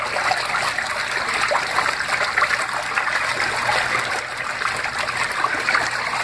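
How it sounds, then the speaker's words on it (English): Water sloshes and trickles steadily inside a washing machine drum just after filling, a continuous close-up watery hiss with no talk. "You can just hear the water."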